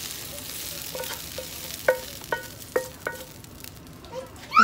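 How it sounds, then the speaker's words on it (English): Green onions and onions are stir-fried in a pan, with a steady soft sizzle broken by a series of sharp utensil taps and scrapes against the pan, close and clear. "Stir fry your green onions and onions and put it into the bowl"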